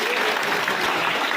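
Dense, loud applause from a crowd at a BJP political rally for workers in Amritsar, a continuous wash of clapping without pause.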